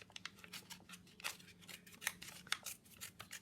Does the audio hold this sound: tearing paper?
yes